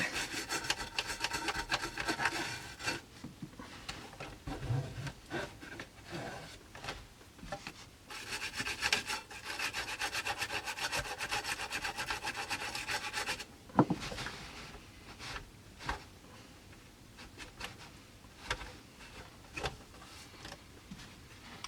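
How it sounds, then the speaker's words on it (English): Sticky goo is scraped off a broken part from a Sharp QT70 boombox, a dry rasping scratch repeated in steady strokes, then slowing into sparser, separate scrapes with gaps between them. "I just need to scrape it off there"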